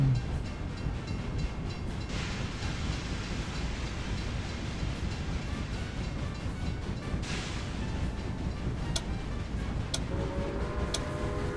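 A train running along track in the Railway Empire 2 video game near Hoover Dam: a faint, continuous rolling rumble with light ticking clicks and no voices.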